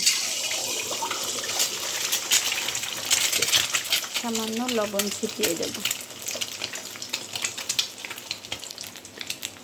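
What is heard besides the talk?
egg frying in hot oil in a wok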